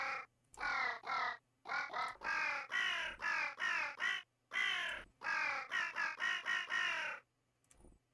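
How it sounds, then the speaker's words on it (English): A sequence of cawing crow calls from the video game Vintage Story, about a dozen loud, harsh caws in quick rhythmic bursts grouped in runs, heard alone with brief pauses between groups. "We'll do crow."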